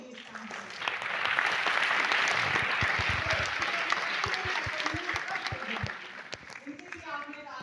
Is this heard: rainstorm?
no